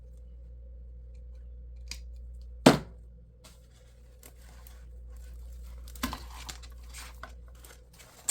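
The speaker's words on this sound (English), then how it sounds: "twist tie that off and then trim up the pipe cleaner" Scissors trim a pipe cleaner tied onto a grapevine wreath, making a few sharp, close snips spaced several seconds apart against a quiet background with light handling rustles.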